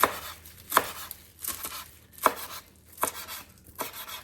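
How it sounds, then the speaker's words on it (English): Washed, spun-dry kale is chopped with a knife on a cutting board. About six crisp, evenly spaced chops land roughly every three-quarters of a second, close and clear with no talking. "I've got my kale washed and I spun dry it. And now I'm going to just chop it up."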